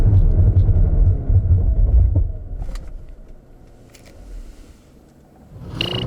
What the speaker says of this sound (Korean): 이번에는 렉서스 LS500H의 제동 성능에 대해서도 한번 알아볼까요?